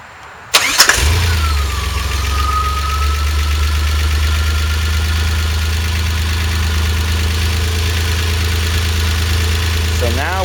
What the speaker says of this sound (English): So I'll start the engine and then hit the max button.